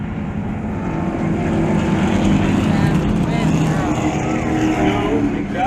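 Late model race cars roar around Jennerstown Speedway during heat races, a loud sustained engine drone that swells and passes while an announcer talks over the PA.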